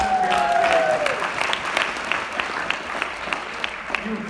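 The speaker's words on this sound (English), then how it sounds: "All right, let's give her some applause." Audience at a leadership conference stage event applauding a volunteer, a broad steady wash of clapping with a brief whistle at the start, fading slightly toward the end.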